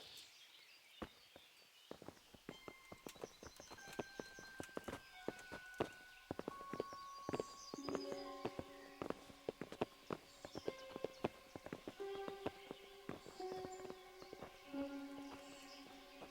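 Horses' hooves clip-clopping in the video game Kingdom Come: Deliverance, a steady run of sharp, close hoofbeats with soft music tones underneath.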